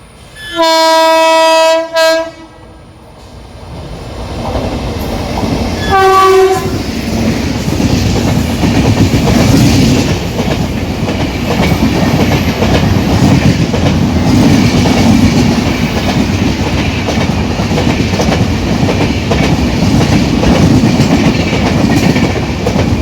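A train horn blares in several long tones, then a rumbling train passes close by, with steady clattering wheels that continue loudly to the end.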